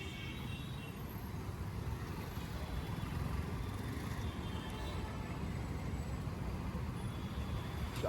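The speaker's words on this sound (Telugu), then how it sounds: "చాలా ట్రాఫిక్ ఉంది. చాలా అంటే చాలా ట్రాఫిక్" Heavy road traffic rumbles as a dense, steady wash of engine and tyre noise with no single vehicle standing out, continuous and fairly loud throughout.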